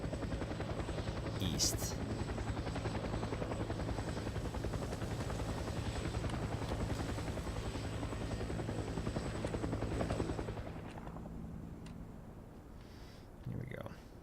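A helicopter in the video game Fear the Wolves drones loudly and continuously with a steady rotor buzz, then abruptly drops away near the end, while a player talks briefly over it.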